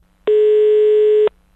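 A single steady telephone tone sounds while a prank call is being placed, one loud sustained beep lasting about a second and then cutting off cleanly, with no voices.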